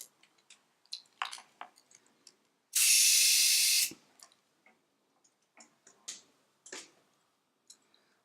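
Compressed air, about 50 psi, blasts into the shaft of a Fox ALPS 5R shock in one loud, steady hiss of roughly a second, set among sparse light clicks and taps of workshop handling.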